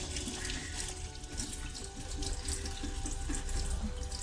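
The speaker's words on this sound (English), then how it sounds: "just condition these bristles and rinse it out" Steady running tap water splashing into a sink as makeup brush bristles are rinsed, a continuous close hiss and patter with no pauses.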